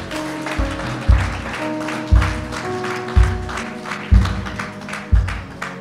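A church congregation claps in praise of the Lord, rhythmic rounds of applause pulsing about once per second, loud and near, with sharp accents at each beat and a sustained background tone underneath.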